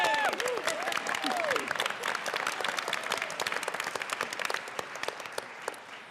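Legislators in the Colorado House chamber cheering and applauding, with a few voices whooping over the start of a burst of sustained clapping that slowly thins out.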